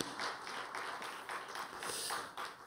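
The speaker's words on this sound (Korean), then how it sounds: "우리 지휘자님들 함께 힘껏 격려하는 박수 한번 부탁합니다" A church congregation at a Sunday worship service applauds its choir conductors, steady dense clapping from many hands filling the room throughout.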